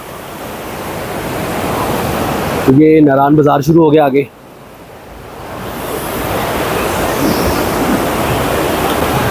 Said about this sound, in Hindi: बहुत ज्यादा शोर है इस वक्त पानी का यहाँ पे।